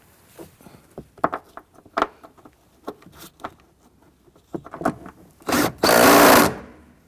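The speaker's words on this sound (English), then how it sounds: "Install the seat belt anchor bolt." Seat belt anchor bolt on a Toyota RAV4 being worked in with scattered clicks and ratchet ticks, followed by a short burst of a power tool and then a longer, loud buzzing run as it is driven tight.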